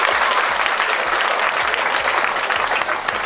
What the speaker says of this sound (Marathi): जरा याच्यासाठी टाळ्या वाजवा आपल्या गायकवाड सरांसाठी.